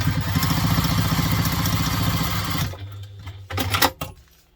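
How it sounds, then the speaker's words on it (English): A sewing machine stitches together two short fabric ends for a lunch tote, running in a loud, rapid, even mechanical chatter before stopping and giving a few clattering bursts. "we're going to stitch them together back to construction lengths using the seam allowance in the pattern."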